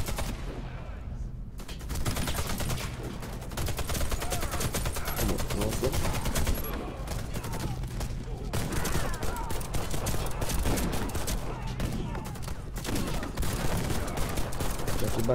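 Sustained automatic gunfire in a Warface co-op match, dense and loud with rapid overlapping bursts and brief lulls, while players talk throughout.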